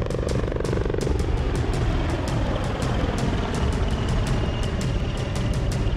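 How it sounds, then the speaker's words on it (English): HAL Dhruv advanced light helicopter, built by Hindustan Aeronautics, running close and loud, with a steady roar of turbine and rotor broken by a fast, even pulse of blade thumps throughout, no voices. "The advanced light helicopter named Dhruv is an indigenous helicopter developed and produced by Hindustan Aeronautics."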